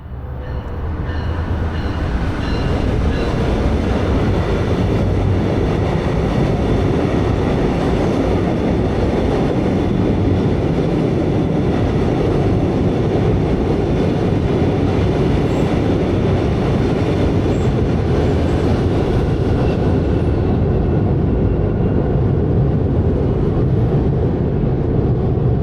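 A northbound Brightline train crossing a bridge, a loud, steady rumble of wheels and rail noise that continues unbroken for the full length without fading.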